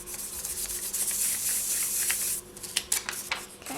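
Small polymer clay pieces are burnished onto a paper backing, giving a close, soft, continuous rubbing hiss that breaks into a few short brushing strokes near the end.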